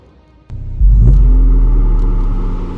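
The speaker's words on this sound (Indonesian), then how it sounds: "Bentar, kayak ada suara mobil." A car engine in a video game starts up with a thump, then settles into a deep, loud rumbling idle that holds steadily, with a faint rev partway through and no talking.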